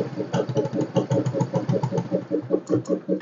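A motorcycle engine idles with its battery disconnected, running on close by with a rapid, uneven chugging pulse that stays steady and fairly loud throughout, with no voices over it.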